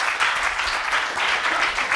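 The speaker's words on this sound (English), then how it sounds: "You can applaud in between." A tech-talk audience applauds after a live computer vision demonstration, a dense, even wash of clapping from many hands that carries through the whole moment without speech.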